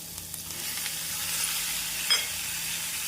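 Onions and tomatoes sautéing on a medium flame for vegetable biryani give a steady, even hiss of sizzling oil, close and continuous, with a faint stir or scrape near the end.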